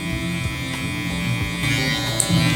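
Electric hair clipper fitted with a one guard, lever open, cutting a taper fade: a steady close-up buzzing drone with small shifts in pitch as it moves through hair.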